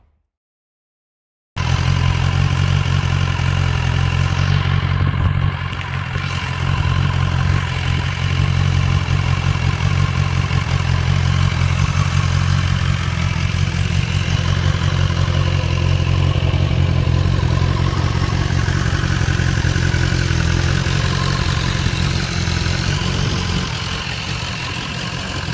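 A BMW S1000XR motorcycle engine idles steadily nearby, a loud continuous low rumble with a faint mechanical clatter, holding even for about twenty-four seconds after a brief silent start, with no talking.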